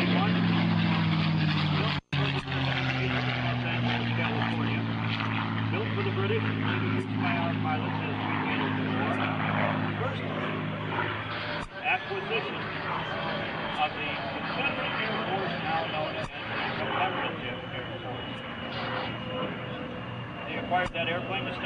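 A P-51D Mustang propeller plane drones past at the 2005 Joint Services Open House air show, a sustained engine hum with a falling pitch as it passes, under steady talk from a commentator.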